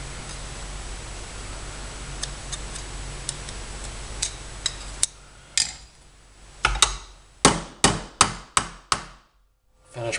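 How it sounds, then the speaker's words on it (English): Sharp metallic hammer blows pound a rivet into steel, first light faint taps under a hiss, then a run of loud, evenly spaced strikes close by near the end. "Finish pounding it all the way in."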